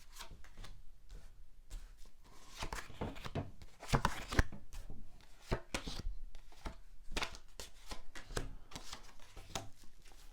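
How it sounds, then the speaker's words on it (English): Tarot of Prague tarot cards being shuffled by hand, a steady run of soft papery riffles and slaps close by, with no talking. "I'm going to shuffle your cards, and I'm going to be using my favourite deck, which is the Tarot of Prague."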